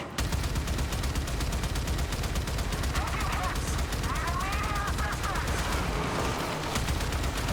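Rapid continuous gunfire in a video game, close and loud, with bursts that sound like automatic weapons running through the whole stretch and voices faintly underneath.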